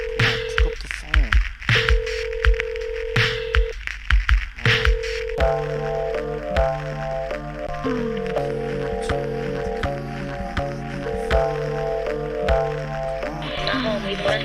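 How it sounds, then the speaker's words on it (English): An outgoing phone call rings out, with repeated steady ring tones in short bursts during the first half, then music takes over with layered notes under the tones. "Come on, pick up the phone."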